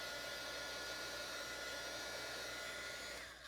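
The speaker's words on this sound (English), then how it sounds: "You can hit it with a heat gun." A heat gun blows with a steady, loud whooshing hum while drying a watercolor gradient on paper, then tails off slightly at the end; close and uninterrupted, no voices.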